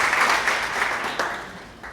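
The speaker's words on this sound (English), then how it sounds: "We must be happy and clap for ourselves for the patience we" Brief clapping from attendees at a film policy consultative meeting with Sierra Leone's Ministry of Information, a moderate ripple of applause that fades gradually.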